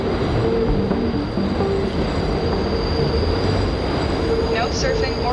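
A New York subway train rolls along the rails with a loud, continuous rumble, a constant high metallic wheel whine and a faint clatter throughout.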